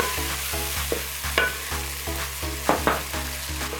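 Tomatoes soften in hot oil in a pan for chips masala, giving a steady close sizzle broken by regular scrapes and clacks of stirring, with a low hum running underneath.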